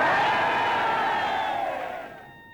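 A large assembled crowd cheering and shouting in 1930s archival footage, a loud sustained roar of many voices that fades toward the end.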